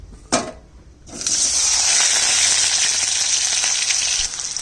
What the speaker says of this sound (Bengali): আলুটাকে প্রথমে ভেজে নিচ্ছি